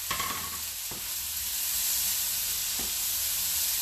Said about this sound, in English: now I'm going to put my peppers back into this pan here.